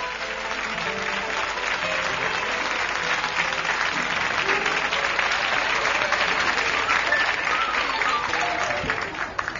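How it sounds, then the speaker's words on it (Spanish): A live audience at a 1978 television show gives warm applause welcoming a female singer to the stage, a full, sustained crowd clapping that swells steadily and lasts nearly ten seconds, with faint voices beneath. "que nos visita esta noche y que recibimos con un cariñoso aplauso"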